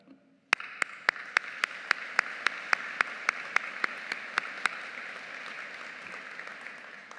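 An audience applauds at a university spring convocation ceremony, sharp distinct claps at a steady rhythm over a wash of room noise, fading out after a few seconds.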